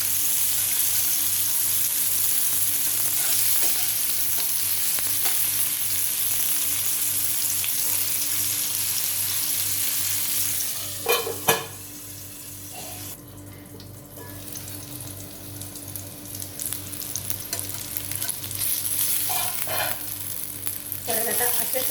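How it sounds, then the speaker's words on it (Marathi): Stuffed bitter gourd (karela) fries in a pan with a steady, dense sizzle, close and fairly loud, briefly broken by a couple of clinks as the pieces are turned, then the crackling resumes. "आता आपल्याला चारही बाजूने व्यवस्थित ते फ्राय करून घ्यायचे"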